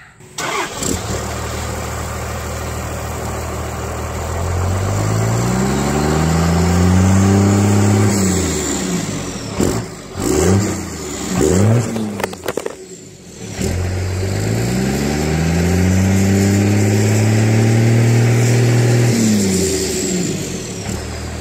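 A Cummins 12-valve diesel truck with a Diamond Eye 4-inch resonator and muffler exhaust drones loudly, rising and falling through repeated revs and gear changes, with a brief drop near the middle before a steady pull resumes.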